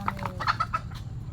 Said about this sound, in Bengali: আপনার অনেকগুলো মোরগ